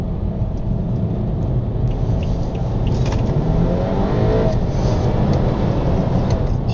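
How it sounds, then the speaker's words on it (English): A BMW 328i Gran Turismo accelerating on a road, heard from inside the car: a steady low engine drone and road rumble that builds gradually, loud and continuous with no talk. "that acceleration is pretty decent"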